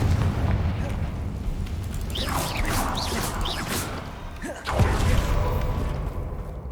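A Confringo blasting spell fires in a Harry Potter video game: whooshing magical sweeps build over a steady rumble, then a loud boom bursts out near the end, with game ambience throughout.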